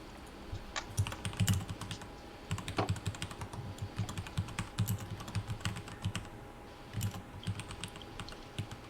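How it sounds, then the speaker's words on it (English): Irregular clacky keystrokes on a mechanical keyboard, close and moderately loud, with quick bursts and short pauses and a few sharper spacebar-like hits. "mechanical keyboard ASMR to suit your weird needs"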